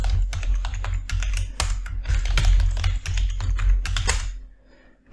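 Rapid, uneven keystrokes rattle on a computer keyboard as an admin password command is typed for a Check Point CloudGuard management setup on AWS, close and steady for about four seconds before stopping.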